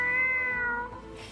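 A human voice imitating a kitten mewing, one drawn-out, high, wavering meow that slides downward and fades, close and clear with nothing else around it.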